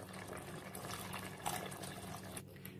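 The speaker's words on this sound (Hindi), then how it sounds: "अब इसमें हम पानी डालेंगे।" Water poured into a pot of rice and mutton for white pulao, a steady close splashing and filling sound that runs the whole moment, with no talk.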